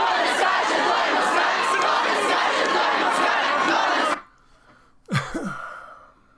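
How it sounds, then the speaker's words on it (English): A large crowd in Ukraine chants and shouts together in a loud, dense roar for about four seconds, then cuts off abruptly, followed by a brief gasp-like vocal sound. "Here is a video from fascists in fucking Ukraine hopping up and down chanting about, if you're not jumping, you're a Russian."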